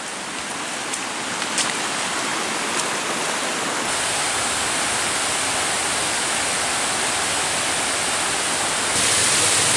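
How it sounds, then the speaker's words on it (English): A stream beside a forest trail on the Black Forest Trail in Pennsylvania rushes steadily, a dense, loud broadband wash of flowing water with a few faint clicks early on and no talking. "Still following a stream on the trail, and still following a stream to the left of me."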